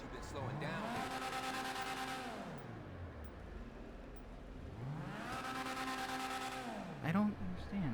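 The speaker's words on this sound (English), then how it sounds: "An LS car meet series race." A race car in Gran Turismo on PS5 sweeps its engine up through the revs and back down twice, with loud steady engine drone and a brief squeal near the end.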